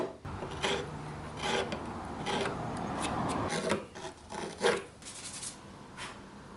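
A hand gouge scrapes and rasps against hard wood in a series of short, uneven strokes, dry scratchy friction sounds close by with brief gaps between cuts.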